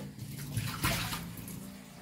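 Water poured into a bedpan to rinse out soap, a steady splashing gush lasting about two seconds, close and moderately loud with no talk.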